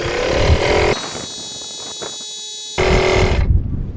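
A steady mechanical drone with a tonal hum runs throughout, joined at the start and end by a louder rattling, chugging motor of a Dnipro-M DMP-200 portable air compressor running on 220-volt mains power.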